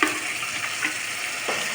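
Chopped tomatoes hitting hot oil with leafy greens already frying in a pan, a steady bright sizzle with a few soft stirring scrapes, close and continuous.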